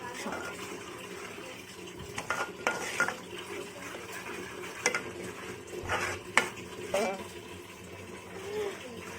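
Red chilli masala and ginger garlic paste being mixed in a pan for mutton rassa, with scraping and clinking stirring sounds in irregular bursts over a low background, with a voice briefly heard.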